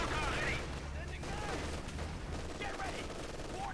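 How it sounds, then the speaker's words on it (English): Light machine gun fire in the Company of Heroes 2 strategy game, rapid bursts rattling under a caster's commentary and mixed with other battle noise in a 1v1 match. "heavy fire from the Grenadiers, light machine gun"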